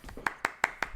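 A few sharp, close handclaps in an irregular rhythm from a small group during a podcast recording, each clap crisp and distinct with quiet gaps between.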